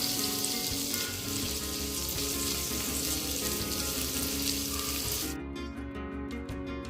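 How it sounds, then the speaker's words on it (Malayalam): Finely chopped onion frying in melted butter for mushroom soup, a dense steady sizzle close up that thins out toward the end. "ബട്ടർ നന്നായി ഉരുകി വന്നിട്ടുണ്ട്. ഇനി അതിലേക്ക് ഒരു ചെറിയ സവാള നല്ലപോലെ അരിഞ്ഞത് ഇട്ട് കൊടുക്കാം."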